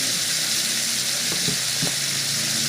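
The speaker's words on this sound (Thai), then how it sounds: "คั่วให้มันเข้ากันนะครับ ให้มะเขือ เริ่มสุกนะครับ" Pork and long eggplant stir-frying in a hot pan, a loud steady sizzle throughout with a couple of brief scrapes or clacks as the mix is stirred, no voices.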